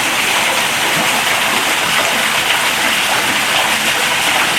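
A waterfall at the Memphis Zoo gives off a loud, steady, hissing rush of falling water that stays constant throughout, with no voices.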